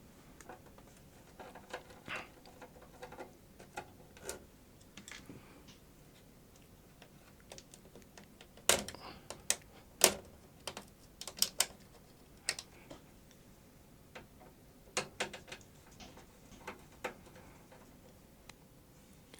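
Screws undone on the front panel board of a DA-88 digital audio recorder, a scattered series of small metallic ticks and clicks, close and quiet, with a few sharper clusters midway.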